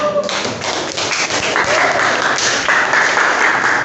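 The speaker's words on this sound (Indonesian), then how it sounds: "Tepuk tangan untuk kita semuanya" Students in a classroom quiz break into loud, dense clapping that carries on steadily for several seconds, with some voices mixed into the clatter.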